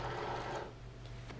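A Cricut cutting machine whirs steadily as a cutting mat is fed in, a close, continuous mechanical drone that eases slightly midway, with a faint click near the end.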